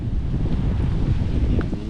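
Strong gusting wind from Hurricane Beryl in 2024 in the Cayman Islands buffets the microphone with a heavy low roar, continuous and close, with no voices.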